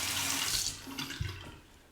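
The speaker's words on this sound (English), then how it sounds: "Here we go, under the hot water." Hot water runs from a bathroom tap during a wet shave, a steady close hiss of flowing water with a brief splash as something passes under the stream, fading near the end.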